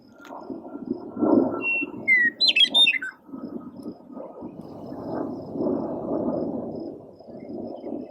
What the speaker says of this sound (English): Here's another western meadowlark, which is singing its pretty song.